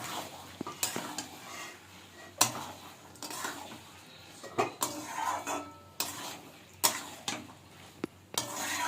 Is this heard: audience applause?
no